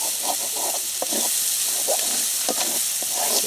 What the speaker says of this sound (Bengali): সব মশলা দিয়ে ভাজি করে নিচ্ছি, মশলা পেঁয়াজ রসুন আদা সুই সব একসঙ্গে দিয়ে আমি ভাজি করে নিচ্ছি।